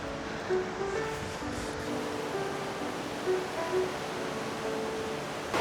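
Broadband rushing water from the Upper Falls in Banff National Park, Canada, a steady continuous roar with a soft wind-like hiss, moderately loud and unbroken with faint low rumbling underneath.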